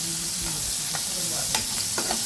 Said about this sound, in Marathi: अशा प्रकारे मी हे शॅडो फ्राय करत आहे